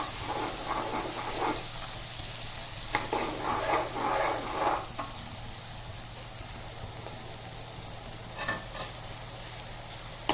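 Finely chopped onion sautés in a pan with a soft continuous sizzle, broken by bursts of stirring and scraping, quiet and close, with no speech.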